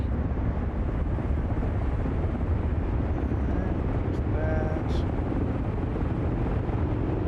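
Loud, steady engine roar fills the whole clip without a break, a dense broadband drone like an aircraft heard from close by, from a flight simulator game with rain outside.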